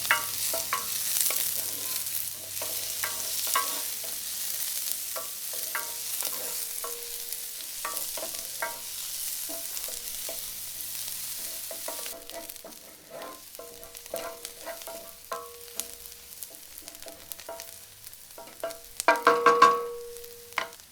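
Chopped onion sautéing in melted butter in a pan on a smoker, giving a soft, steady sizzle with scattered scrapes and clicks of stirring throughout, growing busier near the end.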